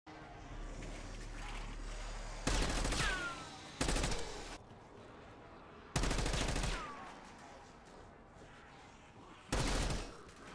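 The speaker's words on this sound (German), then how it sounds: "Schießt alle Zombies ab und beendet die Runde." Gunfire in Black Ops 6 Zombies as zombies held in cells are shot down: four loud, close bursts of rapid shots, each lasting about a second, separated by quieter stretches.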